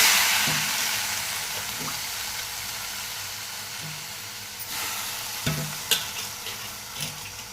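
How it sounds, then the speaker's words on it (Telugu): Sorrel leaves (chukka kura) sizzle and fry in a pan on the stove, with a steady hiss and several light stirring scrapes and clinks throughout. "ఇప్పుడు ఆ ప్యాన్లో ఉన్నటువన్నీ ఒక ప్లేట్లో వేసుకొని ఇప్పుడు చుక్కాకు యాడ్ చేసుకోండి"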